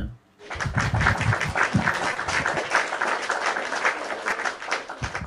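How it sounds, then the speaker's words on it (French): Sustained applause and clapping from a live-stream host and audience, loud and dense, begins after a brief pause and carries on steadily with voices mixed in. "Attendez, je vous acclame."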